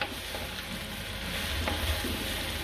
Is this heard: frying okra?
yes